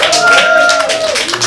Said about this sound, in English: Clap it up if you've been to at least 2 places with your passport.